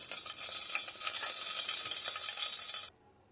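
Cloves and cinnamon fry in hot oil with a bright, steady sizzle close by, which cuts off abruptly near the end into near silence.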